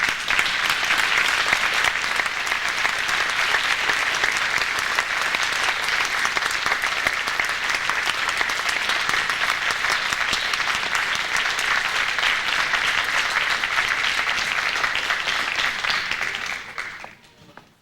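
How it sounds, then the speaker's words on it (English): Sustained applause fills a hall for schoolchildren at a community service awards ceremony, steady and dense for about sixteen seconds before fading out quickly at the end. There is no speech over it. "I think they deserve a round of applause"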